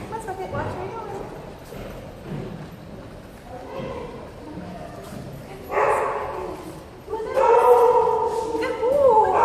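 A dog barks during a gym session, several loud, strained barks coming in bursts toward the end, mixed with encouraging human talk and shuffling movement.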